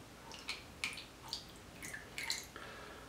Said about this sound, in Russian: если бы мы добавили пару капель концентрированного раствора